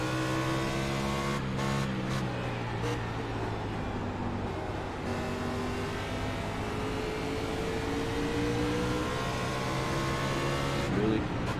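NASCAR stock cars in iRacing at North Wilkesboro Speedway drone continuously, engine notes held steady through the corner with slight pitch shifts, with a couple of brief rattles and a faint voice far beneath the motors.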